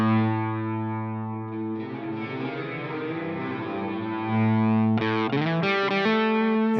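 Electric guitar run through a Line 6 Helix with reverb and delay raised together by an expression pedal: sustained, overdriven chords ring with a washy tail, then a burst of fresh plucked notes enters near the end, loud and close, no voices.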